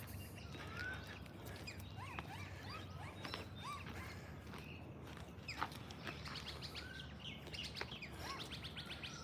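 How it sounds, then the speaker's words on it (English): Many birds chirp and tweet at once near a dog park, a dense chorus of quick calls over a steady outdoor hum, fairly faint throughout. "Plenty of birds around, isn't there?"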